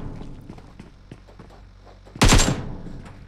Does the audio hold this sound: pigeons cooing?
no